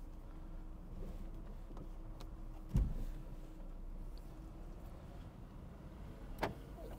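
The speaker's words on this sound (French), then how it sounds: "Je vais rouler un petit peu, là je suis sur un parking." A car rolls slowly through a parking lot, heard from a camera mounted on the car door. A faint, steady low rumble carries a sharp thump near the middle and a lighter knock toward the end.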